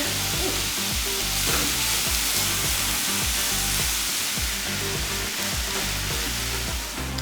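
Meat seasoned with salt, pepper and ground cumin frying in a pan gives a loud, continuous close sizzle with faint crackles throughout.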